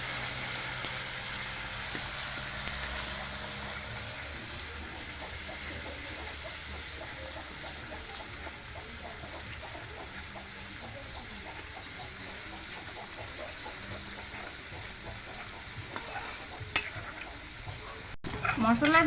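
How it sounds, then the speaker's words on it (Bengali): Spice paste for jackfruit curry, with spice powder and salt, fries in a pan with a continuous low sizzle and a soft, busy crackle that holds steady throughout, then ends in a brief clatter, with no voices. "দিয়ে দেবো এক চামচ মশলা গুঁড়ো, দিয়ে দেবো লবণ, দিয়ে মশলাটাকে কষাই নেবো একটু।"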